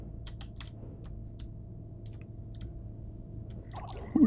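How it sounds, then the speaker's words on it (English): Someone types on a computer keyboard while playing a starship-building game: sparse, quiet, uneven clicks and taps over a faint steady hum, ending in a louder clatter. "I'm a little bit off on my keyboard strokes here."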